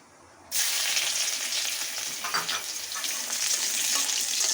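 Chopped garlic dropped into hot oil bursts into a loud, steady sizzle that starts abruptly and holds at full strength, close up with no talking.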